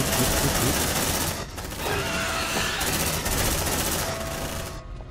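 Sustained automatic gunfire from marines fighting aliens in Aliens: Dark Descent, loud and nearly unbroken over five seconds with a couple of brief dips between bursts.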